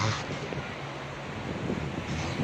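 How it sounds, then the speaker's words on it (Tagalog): Ocean waves wash in a steady broadband roar, heavily buffeted by wind on the microphone, with no clear individual breaks and no talk. "Ay, yan ang alon."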